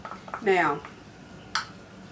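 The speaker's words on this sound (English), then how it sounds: "I'm going to go ahead and stir all of it where the top will look the same." A utensil scrapes and stirs through a French onion beef and rice casserole in a pan, a close scraping stroke followed by a brief clink, faint and sparse with no speech.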